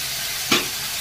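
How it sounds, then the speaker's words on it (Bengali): Elephant apple pieces dropped into hot mustard oil with mustard seeds, a sudden short burst of sizzle midway over a faint steady frying hiss, no talking. "সর্ষেটা হয়ে গেছে, এবার এই চালতাগুলো দিয়ে দিচ্ছি"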